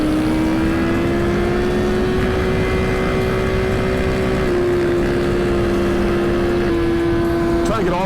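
Superbike engines on a highway, recorded from the seat of a Suzuki GSX-R1000: a loud, steady high-pitched engine drone with wind roar runs throughout, the pitch rising slightly then holding, other bikes nearby.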